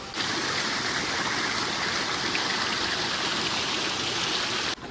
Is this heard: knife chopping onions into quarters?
no